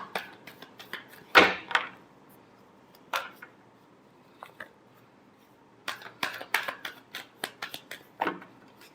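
Tarot cards being shuffled by hand for a reading: a quiet run of short papery riffles and slaps, clustered in bursts with pauses between them, no voices.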